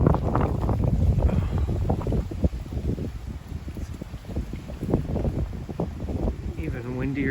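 Strong east wind gusts across the microphone outdoors during a record Oregon heat wave, a continuous rough rumbling buffet with uneven surges, while a person talks over it at times.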